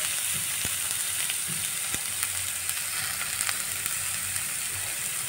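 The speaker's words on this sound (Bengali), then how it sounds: "টমেটো দিয়ে মশলাটাকে আরেকটু কষিয়ে নেব" Spice paste with tomato and salt fries in a pan for a spicy snakehead fish curry, a loud, steady sizzle with occasional sharp clicks of stirring, close and uninterrupted.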